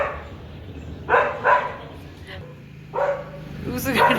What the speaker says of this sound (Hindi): उस गाड़ी में ना ये भौंक रही है जोर से कि उसमें है कुछ